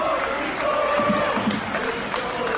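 A sold-out crowd of around 13,000 at Saputo Stadium in Montreal for a football match, a steady murmur with scattered claps and shouts under the commentary.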